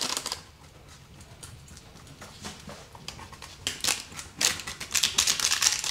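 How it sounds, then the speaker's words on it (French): Knife cutting portions of a vegan, gluten-free quinoa-crust tarte flambée topped with onions, a series of close crisp crunching and tapping strokes growing louder toward the end. "Et maintenant, c'est le moment de découper nos parts."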